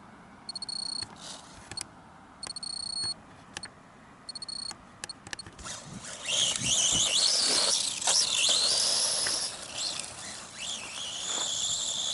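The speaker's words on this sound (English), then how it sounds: "Having trouble with the steering servo here." A 1/18 Dromida DT4.18 RC car's steering servo lets out short, repeated high squeals, then a louder, rougher whine and rustling noise takes over.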